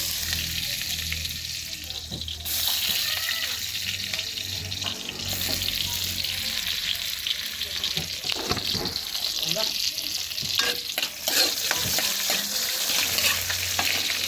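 Onions and garlic fry in hot cooking oil, giving a loud, continuous sizzle that carries steadily from start to finish with occasional stirring clatter on top.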